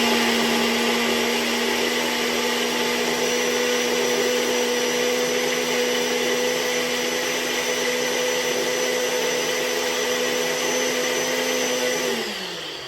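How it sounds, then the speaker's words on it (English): A blender whirs at a steady high pitch for about twelve seconds, close and loud, then winds down as it shuts off. "We just want to blend this up."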